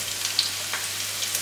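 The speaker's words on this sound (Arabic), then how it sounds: "ونقليهم مزيان حتى يهبطوا" Button mushrooms frying in hot oil in a pan, a soft, continuous sizzle with faint crackles and no voices.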